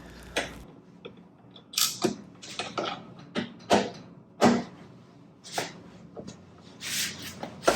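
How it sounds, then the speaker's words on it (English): Two 10mm bolts come off a motorcycle: a string of close, sharp tool clicks, ratcheting and metallic clinks in irregular bursts, with brief pauses in between. "Next, remove the 2 10mm bolts, one on the left and one on the right side of the bike."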